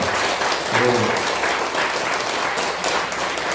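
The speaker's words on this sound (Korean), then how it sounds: "한 번 더 박수 부탁드릴까요?" A church congregation applauds during a Sunday service, with steady, fairly loud clapping throughout and a faint voice briefly audible beneath it.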